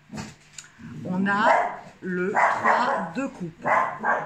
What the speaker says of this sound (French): c'est une chienne de garde. Et elle aboie quand elle entend aboyer.